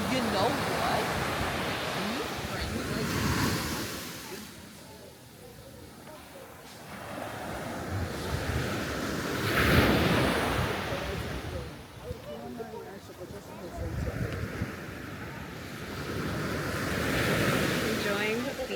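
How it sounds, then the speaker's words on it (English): Ocean surf rolls onto a local beach in Sierra Leone, with waves swelling and receding in slow cycles under steady wind noise buffeting the microphone. "Enjoying the beach today. We got to see the local beach"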